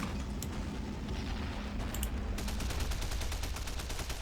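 Machine gun fire in the Men of War World War II strategy game, a steady run of rapid shots throughout, with denser, sharper bursts in the later part over a rumbling battle background.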